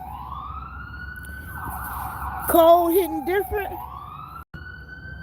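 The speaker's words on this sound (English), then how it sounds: "Oh, that's a police car." A police car siren sweeps up and down with a wailing, yelping tone, rising partway through and then fading back, heard from outside over a steady background hum while someone speaks briefly.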